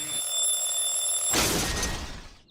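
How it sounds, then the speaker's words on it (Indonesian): An alarm clock rings steadily in a horror video game, a loud continuous bell-like tone that gives way to a louder clattering burst before fading out. "Berisik banget ini alarm ya. Diam kamu alarm."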